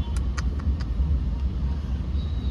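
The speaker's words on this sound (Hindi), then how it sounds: "ये रही अपनी मुंबई, पूरी ट्रैफिक से भरी हुई है" Heavy road traffic in Mumbai, a low continuous rumble of cars and engines with a few short, faint horn-like chirps early on, no one speaking.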